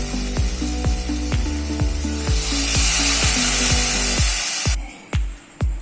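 Water poured into sizzling masala with potatoes and peas sets off a loud, rising hiss and spitting, with repeated scraping clanks of a spoon against the pan, ending in a few sharp knocks.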